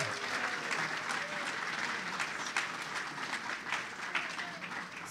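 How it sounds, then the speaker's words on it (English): An audience gives a sustained round of applause in thanks to a singer and musician at a gathering, dense steady clapping at moderate distance with faint voices mixed in. "would you give a round of applause and thanks to Curtis?"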